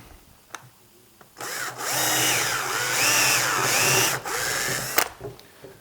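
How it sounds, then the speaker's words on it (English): A power drill whirs loudly for a few seconds, its pitch wavering as it bites into a wooden marimba leg, with a brief pause before it stops. "And drill it."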